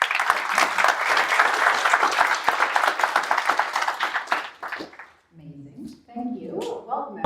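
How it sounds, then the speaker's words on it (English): Audience at a ProductTank London evening event applauding a sponsor, a loud, dense round of clapping for about four seconds that fades out, followed by a voice speaking alone. "Please give a round of applause."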